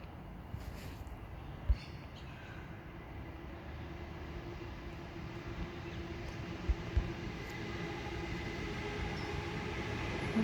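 Suburban train at Merrylands heading toward the city, a faint distant low rumble building gradually across the clip with a few soft clunks, heard from a park without talk.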